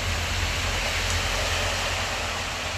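Truck rolling through a flooded street after a rainstorm in Merida, Mexico, a loud continuous rushing of water spray and tire wash with low engine rumble underneath, steady throughout.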